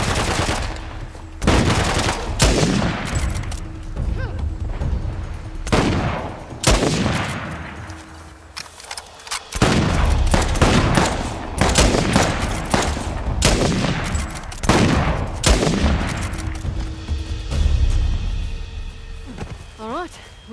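Firefight gunfire in the jungle shooter The Western Ghats, repeated loud bursts and single sharp shots in irregular clusters, close and punchy, with people shouting between volleys.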